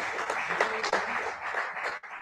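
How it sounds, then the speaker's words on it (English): Audience applause in a church during a Sunday service, steady clapping from a crowd over a couple of seconds, fairly close and even in level. "That's another applause, I think,"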